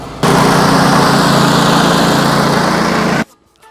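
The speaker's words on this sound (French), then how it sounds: "Et ensuite, vous mettez bien les gaz à fond." A Kohler engine on a BVN452020 wood chipper roars at full throttle, a loud, steady, buzzing drone held for about three seconds before cutting off abruptly to near silence; close and without talk.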